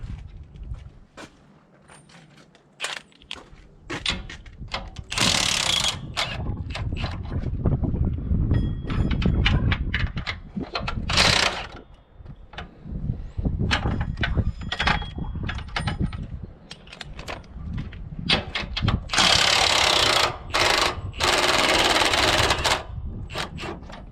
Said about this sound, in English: Not only am I using a chrome socket on an impact, but I'm using non-impact rated extensions.